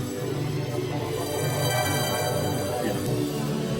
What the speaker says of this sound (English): And then there's this big pad here.